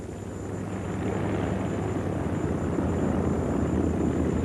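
B-25 Mitchell bomber engines drone steadily on a runway, a loud, dense, continuous propeller roar that builds slightly and holds throughout.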